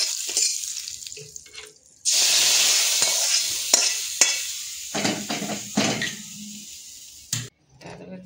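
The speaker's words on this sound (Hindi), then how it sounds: "लंका फुटन देकी बघार" Chili tempering sizzles in hot oil in a kitchen, a bright hissing sizzle that bursts up suddenly, settles, then cuts off, with clatters and stirring sounds close by.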